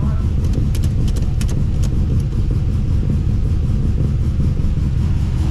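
LS1 V8 in a VN Commodore on its first start-up, running with a deep, steady low rumble throughout, loud and close, with a few brief clicks near the start.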